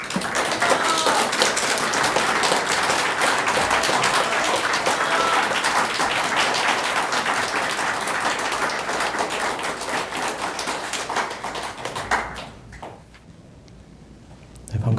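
Sustained applause from a lecture audience, a dense, loud clapping crowd that holds steady for about twelve seconds, then fades out into a quiet room.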